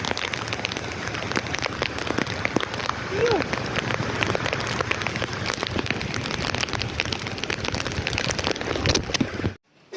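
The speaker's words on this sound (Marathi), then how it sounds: "पाऊस तर एकदम खतरनाक आहे" Heavy rain pouring down in a dense, loud, continuous patter close by, cutting off abruptly just before the end.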